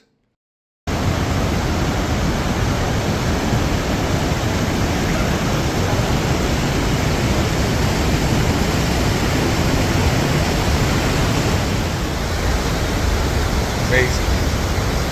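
Iguazú waterfalls roar near the Devil's Throat, heard from a boardwalk built into the falls: a loud, dense, unbroken wash of falling water that holds steady from start to finish.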